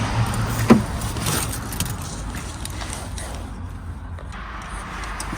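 Car keys jangle with a sharp metallic clink as they go into the ignition of a vehicle with glow plugs, left unstarted since before Christmas, followed by soft fumbling and quiet rustle inside the car.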